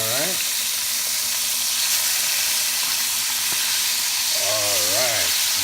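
Fish sizzles steadily in a hot frying pan, a loud, continuous close-up crackle and hiss filling the whole stretch, with a person speaking briefly at the start and near the end.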